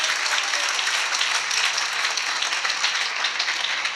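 A church congregation claps loudly at a worship service, giving a dense, steady wall of applause with no voices over it.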